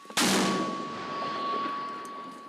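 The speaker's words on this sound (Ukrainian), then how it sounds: "Постріл!" A single loud mortar blast fired on a front line in Ukraine's Kharkiv region, sudden and close, followed by a long fading rumble and ringing tail.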